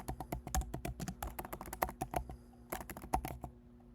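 Close, fairly quiet typing on a computer keyboard, a quick run of crisp irregular key taps in bursts with brief pauses, no talking.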